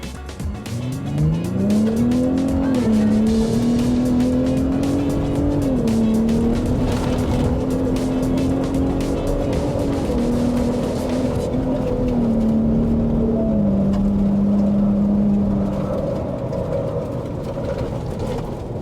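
Ford Ranger Raptor engine roaring at speed across desert in Baja mode, a loud continuous drone with pitch rising and shifting through gears, heard from inside over road and wind noise.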